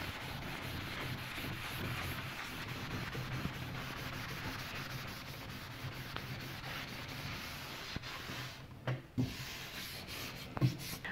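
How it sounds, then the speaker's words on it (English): Cloth buffs a dried wax finish on furniture painted with mineral paint, making a soft continuous rubbing swish at low level with a few brief bumps and knocks near the end. "let's give this a little buffing"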